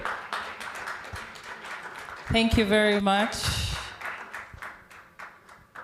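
A seminar audience at a Road to Success event claps and applauds in a dense, sustained patter, with someone speaking briefly over it midway before the clapping continues.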